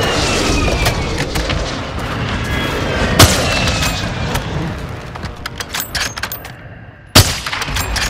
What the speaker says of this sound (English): Mortar support incoming! Copy that. Mortar strike.